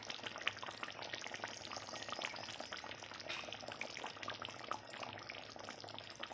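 Ghee hits a simmering fish masala curry in a pan, setting off a steady, dense sizzle and bubbling that stays close and even throughout, with no talking.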